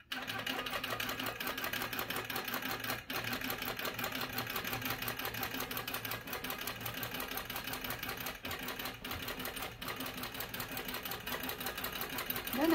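Handiquilter Gallery 2 longarm quilting machine basting a quilt on its frame, a steady close mechanical hum and rapid needle chatter running without pause throughout, with no talk.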